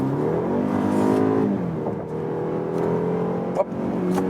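A 4-cylinder, 252 hp SUV accelerates hard from 70 to 100 km/h in sport mode, its engine droning and rising in pitch with a brief dip at a gear change, loud and close from inside the cabin.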